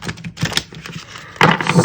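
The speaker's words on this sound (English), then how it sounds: "a sideways shuffle, which is sometimes easier to do with these bigger decks" A large oracle card deck is shuffled sideways, giving a fast, dense run of papery riffling and flicking, close and fairly loud, with a sharper burst of shuffling near the end.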